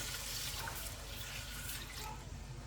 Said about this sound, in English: So 4 cups of chicken broth. Get that poured in.